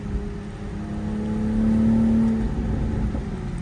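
A 2024 Toyota Supra MK5 with the 3.0 engine hums steadily inside the cabin as paddle-shifted gear changes bring a brief swell in engine tone, a rising whine that peaks midway and then settles back to a low drone.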